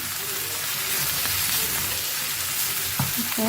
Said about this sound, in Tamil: அடி பிடிக்காமல் கலரி விட்டுக்கிட்டே இருக்கணும்